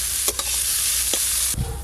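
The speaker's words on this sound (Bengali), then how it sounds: "বেশ কিছুক্ষণ নাড়ার পর ফুলকপিগুলো ভালো করে সেদ্ধ হয়ে গেছে আর ভাজাও হয়ে গেছে" Cauliflower for bhorta is stirred and fried in a pan, giving a loud, steady sizzle with several sharp scrapes and knocks of a spatula against the metal, and a low clatter near the end.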